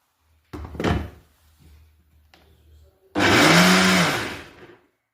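A blender grinds orange cake batter made with orange juice and oil, starting after a thud and some handling knocks, then whirring loudly and steadily for about two seconds, its motor pitch wavering before it cuts off.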